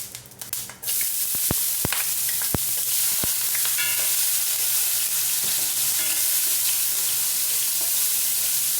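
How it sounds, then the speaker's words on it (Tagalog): Garlic sizzles steadily in hot cooking oil in a pan. A loud, continuous frying hiss fills the whole span, with occasional sharp crackles and pops near the start. "Garlic guys ang una natin igisa."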